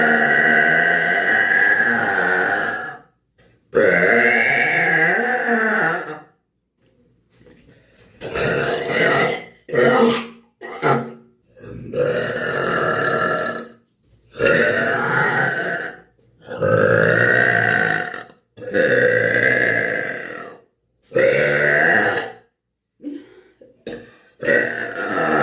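A woman lets out a series of loud, drawn-out burps, one after another with brief gaps, close and forceful.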